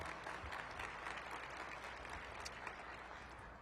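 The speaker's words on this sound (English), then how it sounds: "Let's give Madam Mayor Muriel Bowser a round of applause." An audience at a March Madness event applauds a city mayor, with steady clapping from a crowd that fills the whole stretch at a moderate level and fades slightly toward the end.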